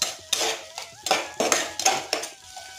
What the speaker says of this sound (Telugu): ఇందులోనే మనం సన్నగా కట్ చేసి పెట్టుకున్న ఉల్లిపాయలు వేస్తున్నాను